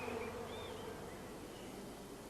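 Honeybees hum inside a swarm box kept in a cool, dark place, a steady close buzz with a few individual bees whining past at rising and falling pitch.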